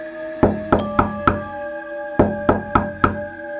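Knocking on a door: two sets of knuckle raps, four sharp resonant knocks, a short pause, then four more, close and clear with no talking.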